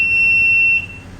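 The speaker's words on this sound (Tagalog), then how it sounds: "I have the alarm." Insulation tester emitting its alarm, a single steady high-pitched electronic tone held for most of a second before cutting off, loud and close with no speech.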